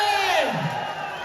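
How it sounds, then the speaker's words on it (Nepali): Crowd at a Nepali community cultural and literary programme in Saudi Arabia whooping and cheering as a female singer is welcomed on stage, a loud rising-then-falling shout swelling over a dense, continuous audience roar. "खै त जोरदार ताली"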